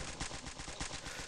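Rapid automatic gunfire in the Stick Warfare Blood Strike multiplayer game, a steady stream of quick, evenly spaced shots that runs without a break and fills the whole moment.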